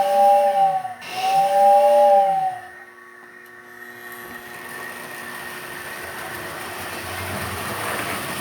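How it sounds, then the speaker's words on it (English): A model train's whistle gives two loud, wavering toots in quick succession at a model railroading club. A steady mechanical hum and hiss continues after them. "But first we gotta blow the whistle."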